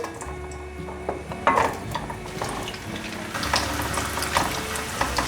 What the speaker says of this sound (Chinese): 接着把马铃薯放进来炸。